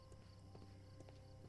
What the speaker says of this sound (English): Oh, there's the horse.